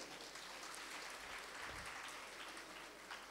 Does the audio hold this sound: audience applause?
yes